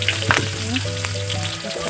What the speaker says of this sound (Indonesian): Langsung saja kita masukkan ini bawang merah